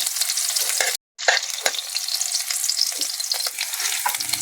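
Garlic and onion fry in a pan with a loud, continuous sizzle and crackle, briefly broken by a short gap, with some stirring noise mixed in.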